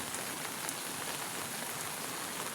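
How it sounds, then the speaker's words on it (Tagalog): Heavy rain pours down in a dense, even hiss by a river in Morong, Rizal, with scattered drops pattering on a surface throughout. "tuloy tuloy pa rin yung pagbuhos ng ulan"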